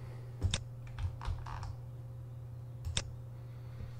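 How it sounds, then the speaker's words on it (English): A computer keyboard is typed on at close range for a password: a few scattered, crisp key taps, some paired, separated by pauses, with a faint steady background hum and no talking. "we'll go ahead and enter the password"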